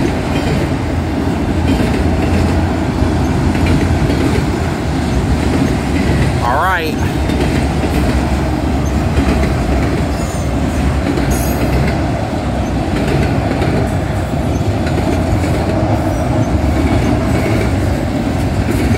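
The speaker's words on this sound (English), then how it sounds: "Pretty long train." A long Union Pacific manifest freight train rolls past close by with continuous rumbling wheels and clatter, plus a brief metallic squeal partway through.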